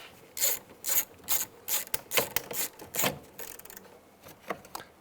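A ratchet tightens a bolt on the side mirror of a 2002-2009 Chevy Trailblazer. It gives repeated bursts of close, crisp clicking in uneven strokes with short gaps between them.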